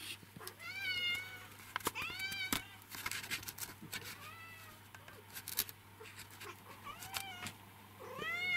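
A cat meows repeatedly and insistently, a string of close, rising and falling cries in quick succession, with faint rustling and a person talking quietly in a room.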